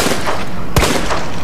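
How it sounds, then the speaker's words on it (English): A single sharp gunshot from a firearm in Resident Evil 2 cracks out once over a steady low game background, with no further shots following. "I'm wasting shots"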